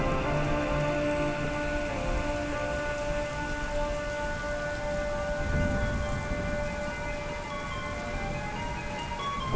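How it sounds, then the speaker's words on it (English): Steady, dense rain falls during the Asian rainy season, a continuous close hiss of drops on surfaces with a faint tonal hum beneath, unbroken for the whole stretch. "Look out the window, it's raining."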